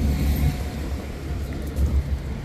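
A New Holland NH 7630 tractor engine runs with a deep, steady low rumble up close, swelling slightly in a few throbbing pulses.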